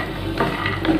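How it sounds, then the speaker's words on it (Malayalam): Peanuts frying in ghee in a pan give a steady close sizzle, with a few scraping stirs and clicks over the top. "നെയ്യിലാട്ടോ അതൊക്കെ വറുക്കണം ഞാൻ."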